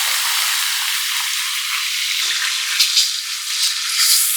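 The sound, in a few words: small onions frying in oil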